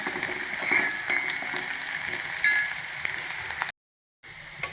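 Onions fry in a pan, being browned as a tempering for milk rice porridge. A dense, steady sizzle crackles up close with light stirring, then briefly cuts out before resuming.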